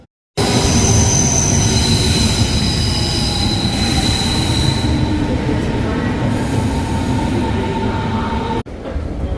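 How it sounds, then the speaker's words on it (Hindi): A metro train pulls into a station, a loud continuous rumble of wheels on rails with high-pitched squealing brakes and whining tones, close by, ending with a sudden drop as it stops. "ट्रेन को रह गए हैं 2 मिनट आने में"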